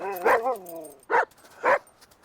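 A dog whimpers with a rising, wavering whine, then gives two short, separate barks spaced about half a second apart, all close and fairly loud with no talking.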